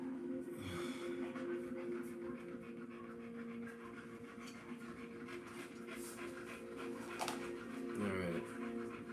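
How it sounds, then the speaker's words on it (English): Several dogs pant and shuffle close by in an ongoing steady mix, with a few sniffs and brief whimpers rising over the background. "They're getting the dogs in order."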